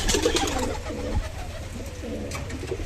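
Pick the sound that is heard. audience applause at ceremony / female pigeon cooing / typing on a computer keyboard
female pigeon cooing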